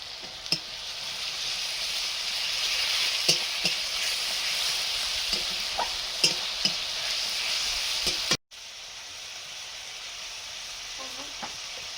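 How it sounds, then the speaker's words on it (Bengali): Spice paste of onion, garlic and ginger paste with chilli powder and water frying in a pan with a steady sizzle, stirred by a spoon that scrapes and taps now and then, with a brief dropout near the end. "লঙ্কা গুঁড়ো, জল দিয়ে মশলাটা কষিয়ে নেব।"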